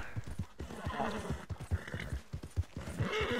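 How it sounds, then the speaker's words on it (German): Horse galloping through a snowy winter landscape in Red Dead Online, rapid, close, heavy hoofbeats in a driving rhythm with breathy snorts throughout. "Jetzt mit dem besseren Pferd hier."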